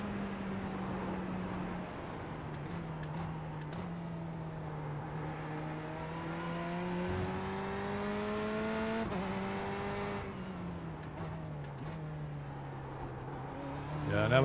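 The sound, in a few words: LMP1 and LMP2 race cars passing, iRacing video game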